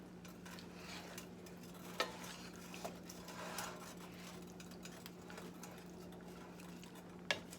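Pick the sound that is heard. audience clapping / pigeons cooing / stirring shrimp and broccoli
stirring shrimp and broccoli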